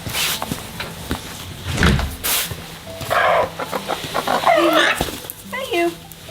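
Chickens cluck near a backyard coop beside a storage building, a few short clucks and scrapes mixed with rustling and nearby talking.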